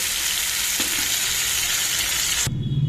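Egg curry frying uncovered in an open pan on a stove gives a steady, loud sizzle that cuts off abruptly near the end, leaving a low hum.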